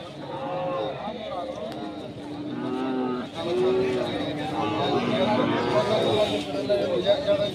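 Cattle lowing repeatedly at the K.G. Temple livestock fair, a busy outdoor cattle market, with several moos rising over steady crowd chatter and people talking nearby throughout.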